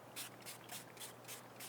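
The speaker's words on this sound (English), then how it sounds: "you can just take your spray bottle" A spray bottle mists water onto watercolor paper in quick bursts, about six short hissing sprays in a steady rhythm, close and soft.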